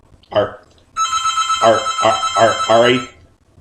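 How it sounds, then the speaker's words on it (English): A phone rings with a repeating electronic ringtone, several bright bursts over about two seconds, heard close by while a person talks over it. "That's my phone."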